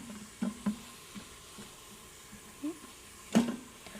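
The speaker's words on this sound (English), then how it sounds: "That's sizzling up." Chicken breast pieces sizzle in a hot frying pan, a quiet steady hiss with a few soft clicks and stirring knocks, one louder clatter near the end.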